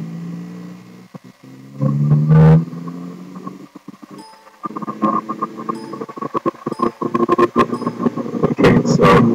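A Honda S2000 AP1 engine revs in first gear from about 1000 to 5000 RPM during a tuning session, with repeated uneven rises and drops in engine pitch, close and fairly loud, and no voices.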